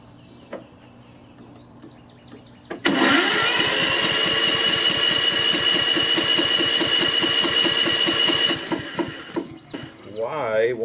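A nearly new Honda lawn mower that had been leaking oil catches with a sudden burst and runs at a loud, steady chugging idle for several seconds, then cuts out; faint bird chirps and brief talk surround it.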